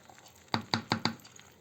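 A spoon or spatula spreads and levels thick pea porridge in a pot, giving four quick, evenly spaced knocking taps close by, with no talking.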